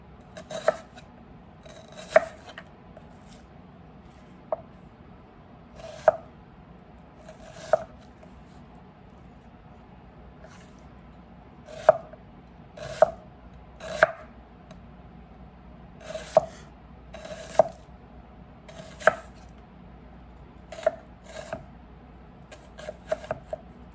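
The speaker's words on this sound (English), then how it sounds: "I'm just gonna slice these like about 1/8" A knife cuts ribeye steak into thin slices on a cutting board, giving crisp, sharp taps at irregular intervals against a quiet background, close and distinct.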